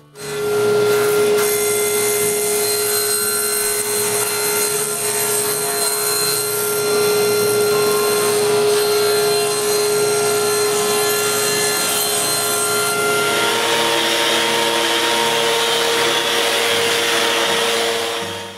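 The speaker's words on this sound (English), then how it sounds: "measure the size of the bottom panel, and cut them" A power saw cuts wooden drawer bottom panels, a loud continuous whine and rasp of blade through wood that runs steadily and shifts in tone partway through.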